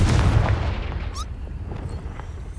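In the Hogwarts Legacy video game, a Confringo fire spell goes off with a heavy, close boom that decays into a rumbling tail, joined by a brief whooshing streak.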